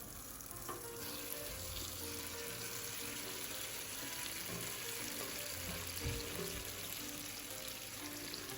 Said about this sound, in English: I'm just going to put all of them vegetables in the heated oil